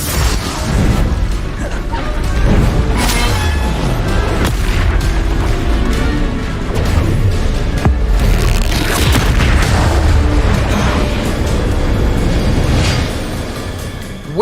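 A Confringo blasting spell erupts in the game Hogwarts Legacy, with loud booming explosions and crashing debris filling the whole stretch as a dense, continuous roar with several heavier bursts.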